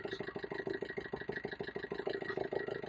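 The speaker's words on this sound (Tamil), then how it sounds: "ஸ்மூத்தாக இல்லாமல் ரஃப் ஐடிலாக ஓடிட்டு இருக்குது இல்லையா" Maruti Brezza diesel car engine idling roughly, a steady low clattering drone with uneven pulsing throughout, heard close with no talk.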